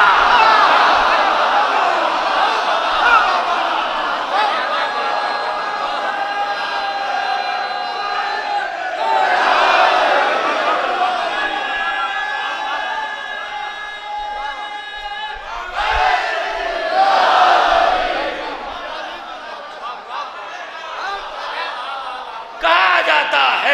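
A large crowd at a religious majlis gathering bursts into loud collective chanting of slogans, rising in repeated waves with a sustained roar between calls.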